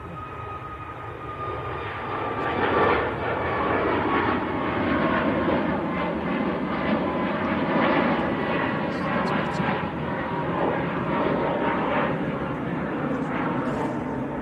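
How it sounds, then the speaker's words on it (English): A Ryanair jet bound for Tenerife South rolls past at Manchester Airport, a steady broad engine roar sustained throughout, moderately loud with faint outdoor background noise. "Ryanair to Tenerife South."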